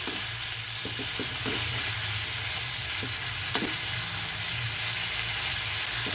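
Cauliflower stirred in a hot pan with coriander and chilli powder, a steady close sizzle of frying under repeated scraping stirs with no talking.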